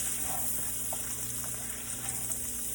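Shrimp sautéing in butter in a pan: a steady, even sizzle with faint crackles, constant and moderately loud, no talking.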